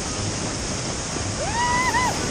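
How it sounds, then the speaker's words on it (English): Rushing white water of a waterfall roars steadily and loudly during white-water rafting in Rotorua, New Zealand, with a whooping voice rising over it near the end. "this is our first waterfall"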